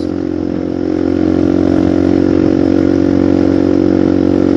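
Motorcycle ridden at full throttle on a road toward Sarangan in Magetan, a loud sustained engine drone climbing slightly in pitch and holding steady, close and continuous with no talk.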